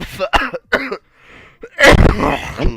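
Several harsh, close coughs and throat-clearing bursts, a few spaced apart, then a heavier rasping fit near the end.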